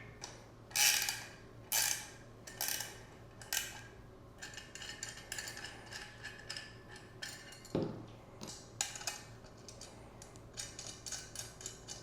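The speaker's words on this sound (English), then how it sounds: "remove the adapter plate from our motor mount by removing these 3 bolts using our 10mm wrench" A 10mm wrench works bolts off a metal adapter plate on a motor mount, giving several sharp metallic clicks and ratcheting taps, some louder and some soft, close by with no talking.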